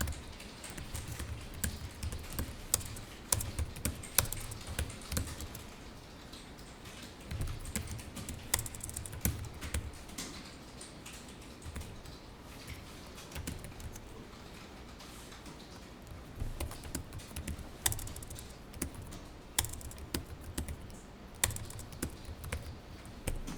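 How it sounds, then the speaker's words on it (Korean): Continuous typing on a computer keyboard during payroll data entry in an accounting class, steady clusters of key clicks with occasional louder strokes, close and fairly quiet with no talk. "주소는 타이핑을 하겠습니다."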